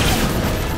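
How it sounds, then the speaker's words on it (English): A beam rifle fires in Halo 4 as one loud, dense burst of blast and boom that fills the whole short moment, with no voice over it. "such as the beam rifle"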